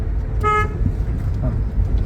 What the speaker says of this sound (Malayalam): ഒരു ഹോൺ അടിച്ചാൽ നമ്മൾ വരുന്നുണ്ടെന്ന് മറ്റുള്ളവർ അറിയും